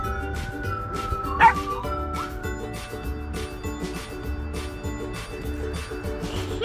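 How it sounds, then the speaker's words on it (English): A puppy yips and whimpers in short, high bursts, fairly close, against a low background hum. "Remember, Fifi, we gotta be gentle with the puppy"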